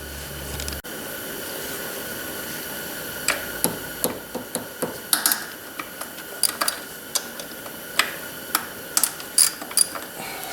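A hand ratchet clicks while loosening the throttle body bolts on a Honda Odyssey engine, giving steady, close, sharp ticks in short bursts over a quiet garage hum, with no talking.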